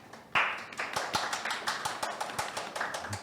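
An audience at a Korean seminar on the platform economy claps in steady welcoming applause for an invited speaker, a moderately near stream of overlapping hand claps with no talk.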